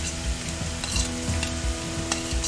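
Chopped onion, ginger and garlic stir-fry in hot oil in a pan for Manchurian fried rice, giving a steady close sizzle broken by scraping and knocking from the stirring utensil, with no voices.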